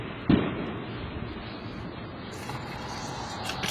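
A single sharp bang rings out early, followed by a rumbling decay and steady background noise, somewhat distant.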